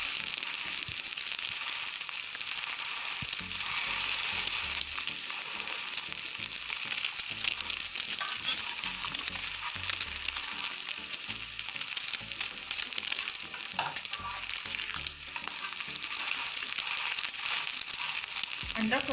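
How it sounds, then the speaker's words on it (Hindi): An egg frying on a hot tava griddle for a commercial-style anda shami burger, giving a steady close crackle and sizzle that runs evenly throughout with small pops, no talking. "अंडा फ्राई हो चुका है"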